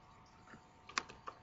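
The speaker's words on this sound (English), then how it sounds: "we do that by typing in unregister" A few keystrokes tapped on a computer keyboard while a command is entered to unregister an Oracle database, coming as several quick, fairly soft clicks in a short burst over a low background hiss.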